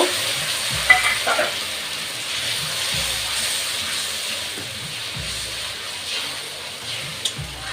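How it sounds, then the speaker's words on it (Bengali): Mustard paste with salt frying in oil and a splash of water in a pan for a potol (pointed gourd) dish, with a steady close sizzle and hiss broken by a few soft scrapes and stirring knocks. "আমি তেলে দিয়ে দেব এবং একটু জল দিয়ে কষিয়ে নেব"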